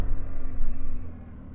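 A serviced BMW motorcycle rumbles close by as it heads out, with a low engine drone that pulses and then eases off toward the end.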